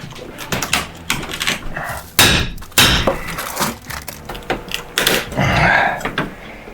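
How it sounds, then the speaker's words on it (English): Old wooden board cracking and splintering as it is pried off a farmhouse wall, sharp snaps and scraping bursts in quick succession, close and loud, with little talk. "I'm breaking this damn board."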